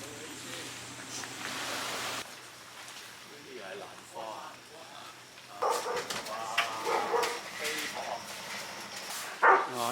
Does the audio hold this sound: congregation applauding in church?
no